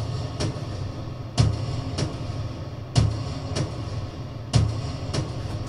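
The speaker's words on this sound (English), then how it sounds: "So altogether, these orchestral drums sound like this." Orchestral drums in a dance production track, processed with heavy distortion and long reverb, strike loud booming hits about every one and a half seconds, with lighter hits between them and a dense reverberant wash filling the gaps.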